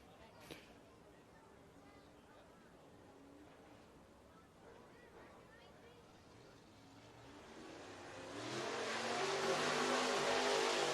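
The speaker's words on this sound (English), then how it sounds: "Next two cars coming to the track, Luke Taylor in the 114 and Nick Cuevas" Race car engines at Southern Raceway in Milton, Florida, drone from a distance as cars come onto the track, swelling to a loud roar near the end.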